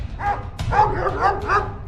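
Several dogs bark and yip in quick repeated bursts, loud and close, with a couple of sharp yelps over a noisy background in a Hindi comedy chase scene.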